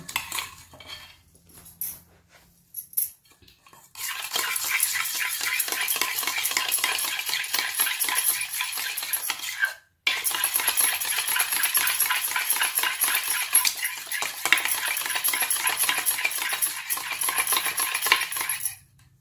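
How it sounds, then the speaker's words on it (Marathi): A whisk clatters rapidly against a bowl of yogurt in a fast, even rhythm. The whisking stops briefly midway, then resumes at the same pace. "दही आपण फेटून घेत आहोत"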